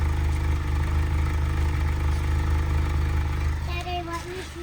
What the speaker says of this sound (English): you can hear an obvious misfire